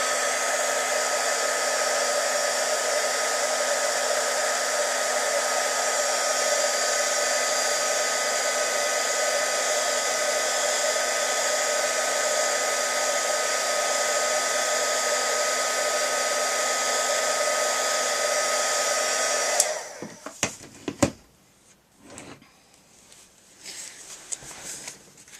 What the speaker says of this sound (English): we're just gonna go ahead and heat emboss this again